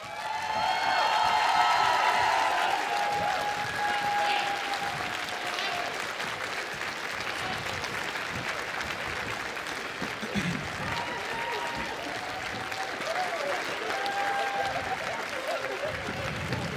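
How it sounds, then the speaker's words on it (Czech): A crowd at an anime festival dance contest applauds the contestants gathered on stage, with sustained loud clapping, cheers and whoops that carry on throughout. "pro ně velký super mega potlesk"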